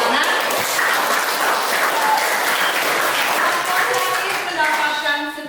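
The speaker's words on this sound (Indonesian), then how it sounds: "Kita berikan tepuk tangan" A class of students claps steadily in a school classroom, a close, busy patter of many hands with children's voices mixed in, tapering slightly at the end.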